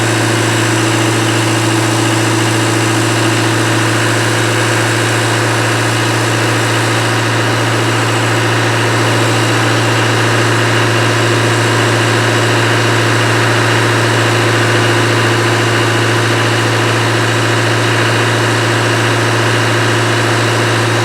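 A Land Rover 300Tdi diesel engine, being checked for air in the fuel, runs at raised speed with a loud, close, steady mechanical hum and no break.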